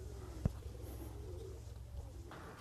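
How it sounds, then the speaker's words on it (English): Pigeons coo softly among the junked cars at Carhenge, a brief low call rising briefly above a constant faint background rumble, distant and quiet, with no talking. "it's filled with pigeons. There's pigeons everywhere."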